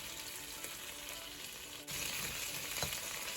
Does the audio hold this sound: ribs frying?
yes